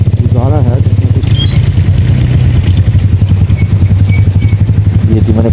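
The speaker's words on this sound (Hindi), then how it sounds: "ये जी मैंने बाइक को पहले गियर में शिफ्ट कर दिया" A motorcycle engine pulling in first gear on a snowy mountain road after heavy snowfall, a loud close-up throbbing pulse running steadily while someone talks over it.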